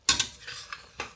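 A utensil clanks against a pot while boiled potatoes are stirred, three or four quick metallic scrapes and knocks close by over about a second, no voices.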